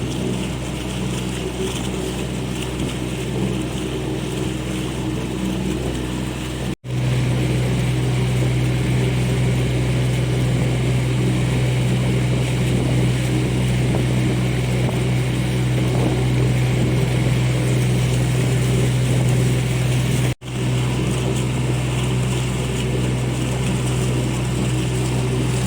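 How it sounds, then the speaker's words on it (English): A small motorboat passes at sea near Lochranza and Tarbert, its engine a steady, continuous drone with a low hum that holds throughout, broken only by two brief dropouts. "So there's a little boat, must have come out of Port of Addy."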